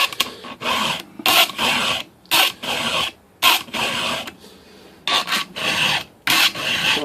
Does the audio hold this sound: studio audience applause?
no